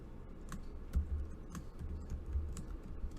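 Typing on a computer keyboard, a run of close, crisp key taps at an uneven rhythm, a few heavier thumps among lighter clicks, with no talk over them.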